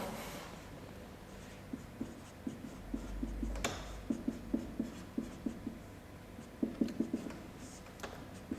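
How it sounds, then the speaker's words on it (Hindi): A pen writes by hand on paper with quiet, close scratching strokes, coming in short rhythmic bursts with brief pauses and no voices. "अब मैं इसको प्रॉपरली लिख देता हूँ"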